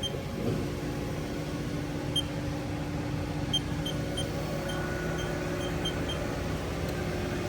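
Steady even hum of a HAAS TM-1 CNC vertical milling machine spindle spinning at 2,000 RPM, a constant droning tone with a high whine and faint intermittent beeps, nearby and unbroken throughout.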